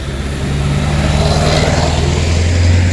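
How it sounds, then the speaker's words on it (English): Road traffic passing beside a street in a small Ohio town in snowy weather, a steady broad rumble with a low engine drone that swells slightly toward the end, close and continuous with no talk. "Sorry about the noise, guys. We're next to the road."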